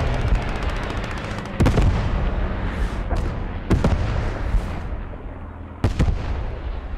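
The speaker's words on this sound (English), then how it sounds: "And dive bomb coming in from Knights of the Windmill." Dive bomb strike in a video game battle, several heavy explosive impacts landing at intervals of a second or two, some in quick pairs, loud and near over a constant rumbling battlefield backdrop.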